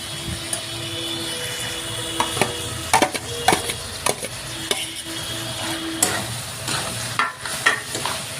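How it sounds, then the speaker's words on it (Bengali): Boiled eggplant stirred into a fish head curry frying in a pan: steady sizzle with repeated scraping and clinking stir strokes, louder bursts in the second half, no talk. "এখন আমি যে বেগুনটা সিদ্ধ করে নিয়েছিলাম এটা দিয়ে দিব।"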